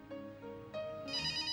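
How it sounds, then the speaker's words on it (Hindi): Short burst of a telephone ringing in a drama serial scene, a bright electronic ringtone with stepped repeating tones, fairly quiet and heard alone. "फोन बज रहा।"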